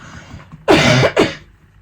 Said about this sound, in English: I am going to cough